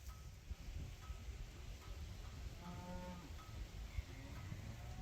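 A mob of 300 to 400 steers lowing out at the back of a property, faint and distant, several moos drawn out over a steady background hum and rustle.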